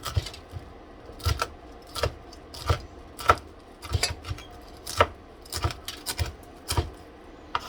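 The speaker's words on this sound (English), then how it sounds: "Cut it in half. And then chop." Knife chopping Brussels sprouts on a cutting board: a series of sharp, close, irregular knocks and cuts spaced about half a second apart, clear and alone with no talk.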